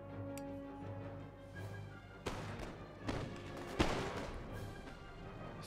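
Musket volley fire in Empire: Total War during an assault on Amsterdam, heard as several sharp, scattered bangs over a low steady battlefield drone.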